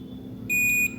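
A multimeter on continuity mode beeps once while probing the circuit board of a Redmi 5 phone: one short, steady electronic tone, close and clear, over a low background hum.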